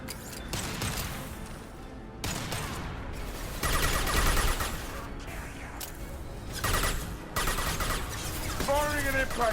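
Scattered volleys of weapon fire in a Mass Effect Legendary Edition squad battle, with repeated crackling bursts and sharp impacts that rise and fall over roughly ten seconds. Voices talk over much of the fighting.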